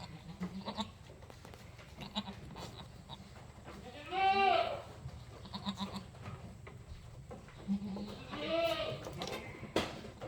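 Goats on a goat farm at midday give two loud, wavering bleats up close, with softer, fainter bleats and bits of farm murmur between them.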